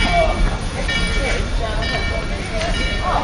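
A Durango and Silverton railroad train, number 482, rumbles steadily as it departs, a continuous low mechanical roar heard from nearby with faint rattling on top.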